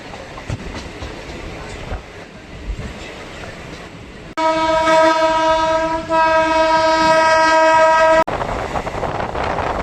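Local train pulling slowly into Barasat station in West Bengal, a steady rumble and rail clatter joined midway by a loud, sustained horn blast lasting about four seconds, then the rolling rumble continues.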